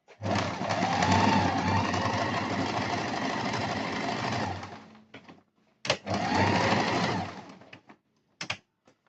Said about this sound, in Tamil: அதான் 1க்கும் 0க்கும் நடு வச்சுட்டு நம்ம காசாப்பட ஸ்டார்ட் பண்ணலாம்.